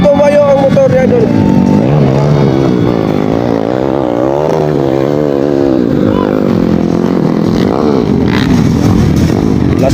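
Underbone motorcycles racing in a motocross open-class final heat in Baler, engines revving loudly with rising and falling pitch as bikes pass, with an announcer talking over them.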